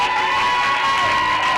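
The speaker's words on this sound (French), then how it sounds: "Est-ce que ça ne mérite pas des acclamations?" A crowd cheering and shouting in acclaim, loud and sustained, with whoops and raised voices blending into one continuous roar.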